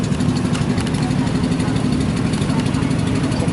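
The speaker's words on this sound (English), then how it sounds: "Check the engine out here." A vintage tractor engine idles with a steady low, rumbling chug, loud and close, holding an even rhythm for the whole stretch.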